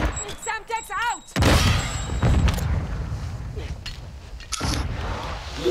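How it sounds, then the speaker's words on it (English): Semtex grenade exploding in the Warzone video game, a loud close boom rumbling for a few seconds after synthetic chirping game sounds, followed by a second blast, with voices under it. "Tossing smoke grenade! Samtex out!"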